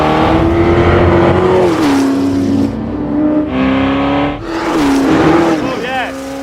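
A 1966 Ford GT40 Le Mans race car engine revs loudly and close by in repeated rising and falling bursts with brief dips between them.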